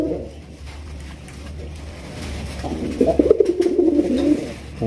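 Raj Golla pigeons coo close by, their throaty, rolling calls growing louder and more continuous in the second half against a low background murmur.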